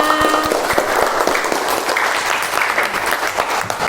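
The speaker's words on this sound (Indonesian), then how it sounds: "Beri tepuk tangan untuk Mbak Ari Husna" Students in a classroom applauding, a loud continuous wash of clapping hands with some distinct sharp claps near the start, sustained throughout.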